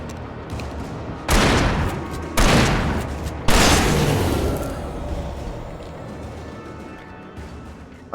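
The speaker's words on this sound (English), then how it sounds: "Hunting rifle." Hunting rifle in Alan Wake Remastered: three loud, sharp shots spaced about a second apart, each ringing out into a long decaying echo.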